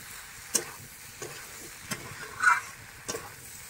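Spices stir-fried in oil in a pan, with a faint steady sizzle broken by several sharp scraping stirs of a spoon at irregular intervals, heard alone without any voices.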